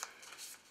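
A deck of playing cards is shuffled in a quick, faint riffle of soft ruffling snaps lasting under a second.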